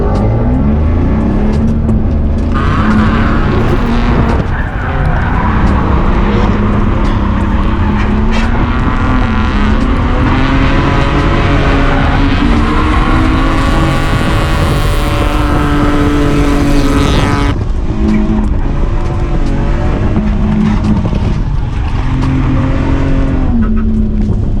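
A drift car at a night drift session, running a new tune and new shocks, roars loudly and continuously with rising and falling engine revs as it slides, the note climbing and dropping through the run.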